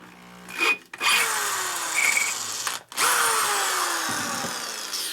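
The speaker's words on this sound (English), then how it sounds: "So we have good drills. They don't break." Power drill boring through a 1983 Harley-Davidson FLTC shovelhead engine cover, a loud close whine that runs in sustained bursts with short pauses and shifting pitch as the bit bites the metal.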